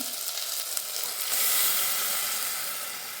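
Ground masala paste of coriander seeds, dried chillies, coconut, cumin, ginger and garlic hits a hot pan and bursts into loud, bright sizzling that swells after about a second and then holds steady, with no voices.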